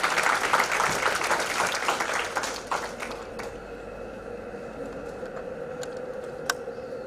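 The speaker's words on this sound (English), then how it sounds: "Please give her a big round of applause," Applause from a conference audience at a management institute's international conference, a dense patter of clapping for the arriving speaker that fades after about three seconds, leaving faint room tone with a few scattered taps.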